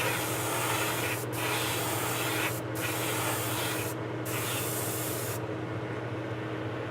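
An airbrush or spray gun hisses steadily while a model locomotive is spray painted toward booth filters, a continuous soft spray over a low extraction hum, briefly broken by a few short pauses.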